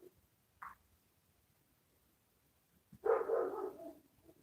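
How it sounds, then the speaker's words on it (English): A dog barking off in the distance: one brief faint yelp, then after a pause a short burst of barking, fairly quiet against a still background. "I hear my dog's going off"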